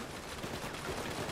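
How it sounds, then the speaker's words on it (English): Machine gun turret firing in Payday 2, a steady loud stream of rapid-fire shots filling the brief moment with no pause. "Watch out for that fucking machine gun thing."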